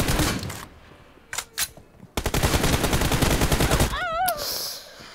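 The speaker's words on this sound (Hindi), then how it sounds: "अब तो फुल गन फाइट हो रही है" Gunfire rattles in a video game gunfight: sharp bursts early, then a sustained loud volley of rapid shots, with an electronic warbling tone near the end.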